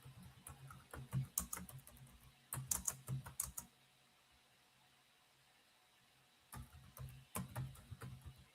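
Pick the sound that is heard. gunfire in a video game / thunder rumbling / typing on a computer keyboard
typing on a computer keyboard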